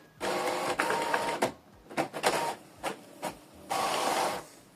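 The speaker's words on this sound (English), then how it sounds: "Then you print a test page." An Epson EcoTank ET-4950 printer runs a test page: whirring feed and print-head passes in several bursts separated by short pauses and mechanical clicks, heard close and alone.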